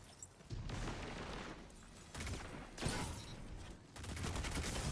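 Rapid bursts of SMG gunfire in a competitive shooter, dense and loud, with repeated rattling volleys across the whole stretch and only short gaps between them.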